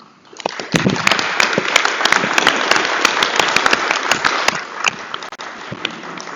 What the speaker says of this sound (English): I really think they deserve a round of applause for what they've done.